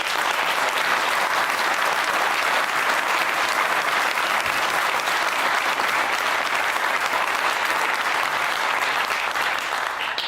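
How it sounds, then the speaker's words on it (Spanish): A large audience at a speech by Milei at Llao Llao applauds loudly and continuously, a dense sustained clapping that holds at full strength throughout and eases only slightly at the end. "les dedico el aplauso que ustedes tuvieron recién"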